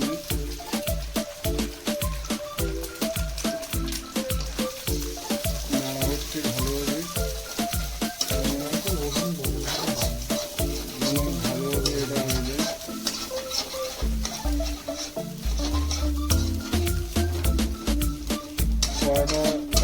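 Egg and chow mein sizzle and fry in an old blackened wok, with steady crackling and repeated scraping and clanking strokes of stirring that run on for several seconds, close by with no talking.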